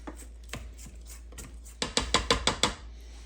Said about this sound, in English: Let's go ahead and stop the machine and scrape our sides.